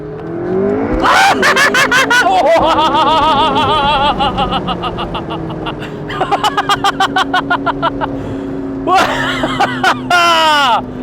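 A McLaren sports car engine revs hard and climbs through several gear changes, loud and close, while excited voices shout and laugh over it.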